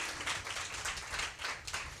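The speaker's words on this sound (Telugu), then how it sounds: "గట్టిగా చప్పట్లు కొట్టండి" A church congregation claps loudly together in a steady rhythm of broad, bright bursts that fill the room.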